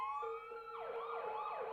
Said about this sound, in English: Oh, the police sirens go off in the pause screen.